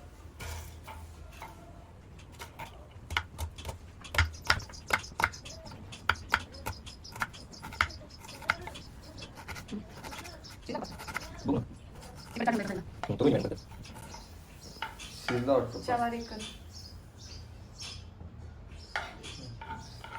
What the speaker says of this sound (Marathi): मी कांदा कापून घेतो